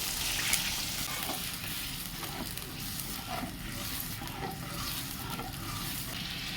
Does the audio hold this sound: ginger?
yes